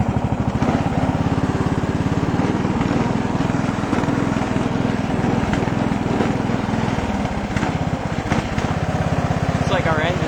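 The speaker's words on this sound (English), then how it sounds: "we'll drive it up again just for viewing pleasure" A Sabre lawn tractor engine runs with a loose engine, a loud steady rattling putter close by throughout, with a voice talking over it.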